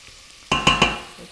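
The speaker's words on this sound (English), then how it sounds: "We'll just let that saute there." Chopped onion and a clove of garlic hitting a hot pan together, a sudden loud sizzle starting about halfway through with a few sharp crackling bursts, then settling into a steady fry.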